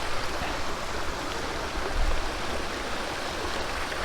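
Waterfall in the Swiss mountains, a steady broadband rush of falling water that fills the scene evenly and without pause, heard from a moderate distance with no voices.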